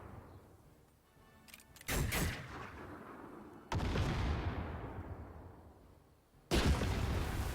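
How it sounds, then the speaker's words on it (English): Mortar rounds fire in the World War II strategy game Headquarters WW2: three loud, booming blasts spaced a couple of seconds apart, each trailing off in a long rumbling decay, with no voices. "It's going to be that mortar."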